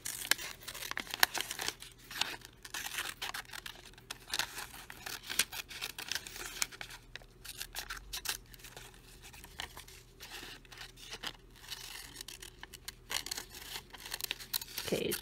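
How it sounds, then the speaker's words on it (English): A paper net being cut out with scissors, a close, quiet, continuous series of crisp snips and paper rustles and crinkles with no talking. "So I'm going to cut this out."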